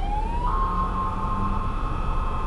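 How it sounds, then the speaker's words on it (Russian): A police siren wails steadily at a distance, its tone rising and holding, over constant traffic and road noise. "очень много сзади полицейских сирен"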